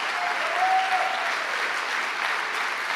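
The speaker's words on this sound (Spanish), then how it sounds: "dale fuerte ese aplauso al Señor" A church congregation applauding loudly during a sermon, a dense, continuous wash of clapping that holds steady and close throughout.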